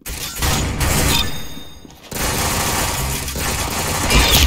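Gunfire in the Roblox shooter Arsenal: dense, loud bursts of rapid shots, breaking off briefly around the middle before a second sustained burst continues to the end.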